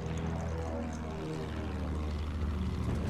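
A plane flying low overhead in the shooter game Battlefield 1, a loud propeller engine drone with falling pitch as it passes close, over a steady battlefield rumble.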